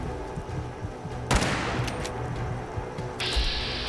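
A Fallout 4 gunshot: one sharp, loud report cracks out over a steady background of game noise, followed by a few faint mechanical clicks and a brighter hiss near the end.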